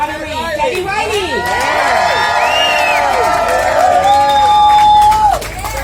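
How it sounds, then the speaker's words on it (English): A large outdoor crowd cheers at a Hollywood Walk of Fame star unveiling, with loud sustained shouting, whoops and whistles swelling together before cutting off abruptly near the end. "celebrate with us by cheering as we unveil the star for Teddy Riley"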